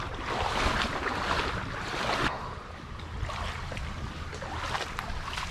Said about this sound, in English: this current is cranking through here